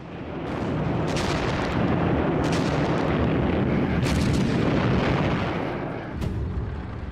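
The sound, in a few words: artillery bombardment of German positions, WW2 footage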